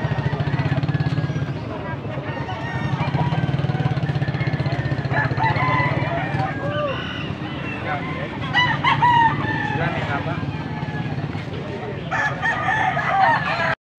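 A crowd of chickens clucking continuously with roosters crowing over the top, people talking and haggling nearby at a busy, noisy outdoor poultry market in Pampanga.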